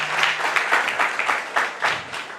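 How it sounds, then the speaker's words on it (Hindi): An audience at a crowded community gathering applauds, with steady, somewhat rhythmic clapping from many hands, close and fairly loud. "हम सब आपके लिए ताली बजाना चाहते हैं"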